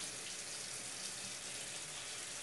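Water runs steadily from a kitchen tap in a continuous broadband hiss, even and unbroken throughout, close and moderately quiet with no voices.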